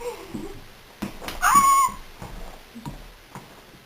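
A voice imitates a cat's meow, one rising mewing call mid-clip, surrounded by quiet scattered taps and faint background noise.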